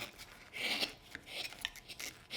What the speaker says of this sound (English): Don't you like the sound of that knife going through that wood?